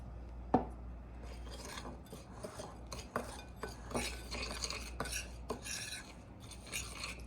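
A utensil scrapes and stirs through a dry apple crisp topping as cinnamon is mixed in, making soft irregular rasping and clinking strokes up close, with no talk.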